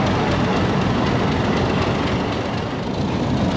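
A 228DN shuttle train hauled by a locomotive, heard from inside the first coach just behind the engine on a dark winter morning branch line, a loud continuous rumble with faint rhythmic wheel clatter throughout.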